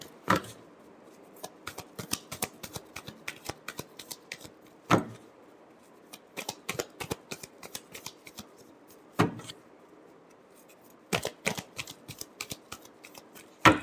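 A tarot deck is shuffled by hand up close, with a steady run of quick papery flicks broken by several louder snaps and riffles, and no one speaking.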